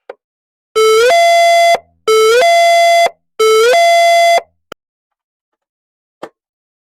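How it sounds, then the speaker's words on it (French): Three long electronic French school safety alarm tones for a major-risk lockdown, each stepping up in pitch and holding steady, separated by short gaps, loud and clear with silence after. "L'alarme va retentir."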